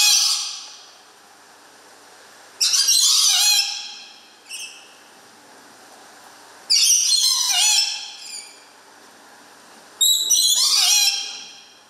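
Rainbow lories and red lories in a zoo enclosure let out three bursts of shrill, harsh squawking, each a loud cluster of screeches a few seconds apart with quiet gaps between.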